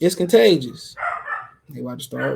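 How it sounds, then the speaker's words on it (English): Dogs bark and yip in short bursts close by, alternating with someone speaking between the barks. "One dog bark, they all bark."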